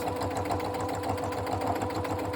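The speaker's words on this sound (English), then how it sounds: "with the machine set up as you would normally have a machine set up, and you literally stitch in straight lines" A sewing machine runs steadily as it stitches straight lines down a quilt. The motor hum and quick needle rhythm are close, even and unbroken throughout.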